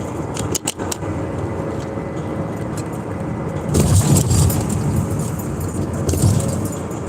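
Car rolling slowly along a road, a steady engine and tyre rumble that grows louder and rougher partway through, with a few light rattles and clinks early on.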